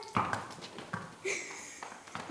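Horse hooves clip-clop at a slow walk on asphalt, a few distinct hoof strikes spaced unevenly over a couple of seconds, fairly close by with light background noise.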